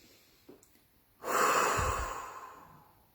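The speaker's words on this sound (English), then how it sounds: "Take some deep breaths." A single long, deep exhale through the mouth rushes out close and loud, then fades slowly, following a faint earlier breath during a guided relaxation.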